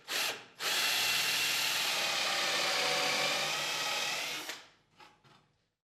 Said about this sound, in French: Nous les serrons fermement et veillons à percer joliment droit à chaque fois.